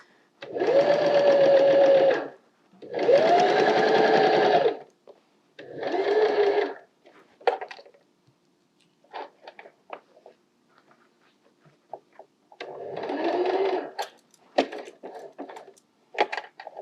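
A sewing machine stitches a soft toy seam in several loud buzzing runs of a few seconds each, with pauses filled by faint handling clicks and rustles between them.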